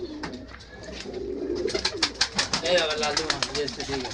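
Kaldom pigeons coo, a male among them, at a bird sale. Soft, repeated throaty coos build and overlap up close, and a voice talks over them partway through.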